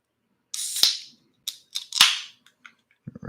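A bottle of gin being opened up close gives a series of sharp hissing pops and bursts of fizz, separated by short silences, then a few softer clicks.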